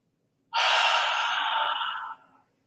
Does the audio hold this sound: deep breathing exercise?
yes